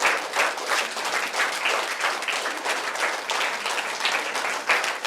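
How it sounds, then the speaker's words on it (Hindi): Audience applause fills a Buddhist vihara at Kushinara, a steady dense wash of many hands clapping at moderate distance, sustained evenly throughout without speech. "आप मेरे लिए फिर से तालियां बजा सकते हैं।"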